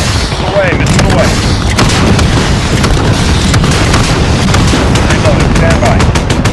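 In Call of Duty: Modern Warfare, helicopter gunfire and missile explosions roar as dense, continuous rapid bursts of cannon fire with heavy booming blasts, loud and close throughout, under radio chatter.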